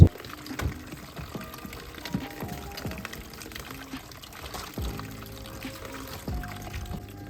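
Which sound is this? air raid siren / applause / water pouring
water pouring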